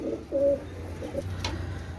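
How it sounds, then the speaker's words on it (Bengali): Pakistani racing pigeons of a running pair coo inside a loft, giving a short low throaty call up close with a faint bright chirp over quiet background. "ভিউয়ার্স এটা হচ্ছে পাকিস্তানি সাকি রেডি কবুতর, রানিং পেয়ার"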